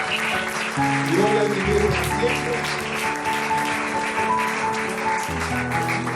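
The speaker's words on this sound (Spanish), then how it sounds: "Un fuerte aplauso al Señor." Church congregation clapping during a Spanish-language worship service, with steady applause under music and a voice speaking over it.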